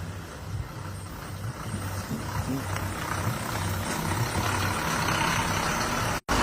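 A lorry labours through a deep pothole on a damaged road, its engine giving a continuous low, straining rumble that holds steady, then briefly drops out near the end before resuming.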